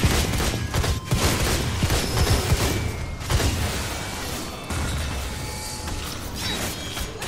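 Heavy cannon fire and booming impacts in the video game Blades of Time, a loud, rumbling barrage with several sharp hits and mechanical clanks running throughout.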